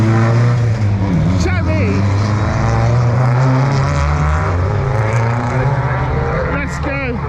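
Race cars roar off the line at an Anglesey time attack start, a loud continuous engine din filling the scene while a crowd member shouts over it.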